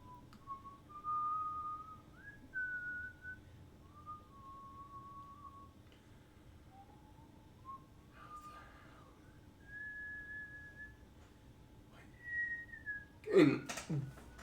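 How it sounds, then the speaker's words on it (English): Someone whistles a wandering tune in short phrases while walking on a Detroit street, with pauses between phrases, faint street ambience, and a brief loud rustle near the end. "Walking and whistling."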